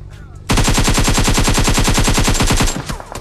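Sustained automatic gunfire in a mobile battle royale game, a loud close burst of rapid evenly spaced shots lasting about two seconds after a short lead-in, then fading out.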